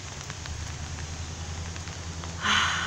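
Heavy rain pours in a steady, dense hiss that fills the scene without a break, then swells briefly louder right at the end.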